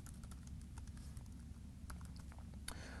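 Code is typed on a computer keyboard during a C# app development demo: soft, quick keystrokes tap irregularly over a steady low background hum, with a slightly louder clack near the end.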